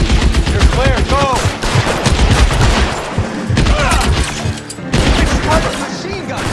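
Dense machine gun fire in the video game L.A. Noire, loud and close, with rapid overlapping bursts and shots that continue nearly without pause, and game voices shouting over the gunfire.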